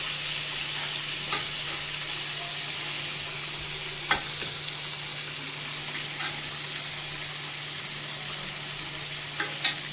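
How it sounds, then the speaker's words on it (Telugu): Tomatoes fry in a pan for tomato pappu, giving a steady, close sizzle with a low hum and occasional soft clinks of stirring. "ఇప్పుడు ఈ టమాటాలు వేసి కొంచెం దాన్ని ఫ్రై చేస్తారు"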